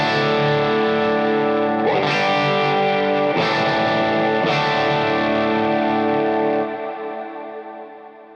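Sustained distorted electric guitar chords strummed a few times through a reverb pedal on a medium setting, each ringing out with a wide, washy reverb tail that slowly fades.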